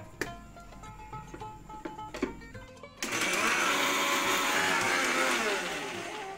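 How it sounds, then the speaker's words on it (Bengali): A kitchen mixer grinder blending chopped ginger, whole cumin, whole coriander, green chillies and cardamom into a paste. A few sharp clicks and taps come first, then the motor kicks in with a loud, steady whirring grind that runs to the end. "মিক্সি জারে কুচনো আদা 1 চা চামচ মতো, সাথে 1 টিস্পুন গোটা জিরে, 1 চামচ গোটা ধনে, স্বাদ মতো কাঁচা লঙ্কা দিয়ে একটা পেস্ট বানিয়ে নেব"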